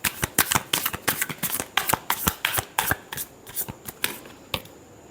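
Tarot cards shuffled by hand in a quick run of crisp riffling snaps and flutters, close and fairly quiet, tapering off toward the end.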